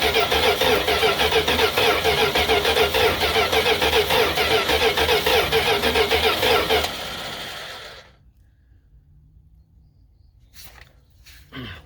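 A 1978 Plymouth Trail Duster engine, fuel just reaching the carburetor, cranks in a fast rhythmic churn for about seven seconds, then cuts off into near quiet.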